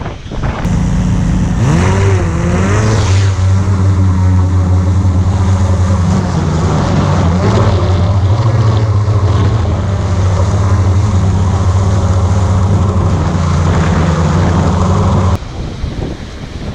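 Seahorse REVO4 drone motors spin up and hold a loud, steady whine on an open beach, with wind buffeting the microphone throughout until the sound cuts out near the end.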